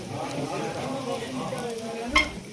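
Red chillies sizzling in hot tempering oil in a pan, a steady crackling fry with a single clink of a utensil near the end.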